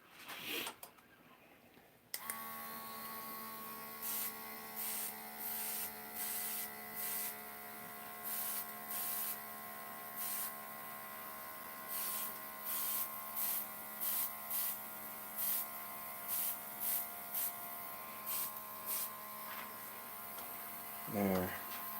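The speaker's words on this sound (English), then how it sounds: "I keep turning the lathe on." A wood lathe hums steadily with a low electric drone while spinning tops, broken by repeated short bursts of spray as paint goes on, and a voice speaks at times.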